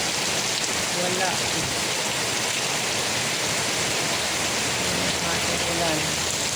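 Heavy rain pours down during a storm, a dense, constant hiss of drops on surfaces that fills the whole clip, with a voice faintly audible beneath the downpour.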